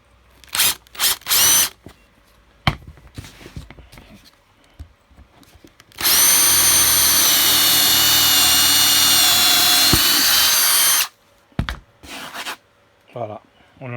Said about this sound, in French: On va percer les trous.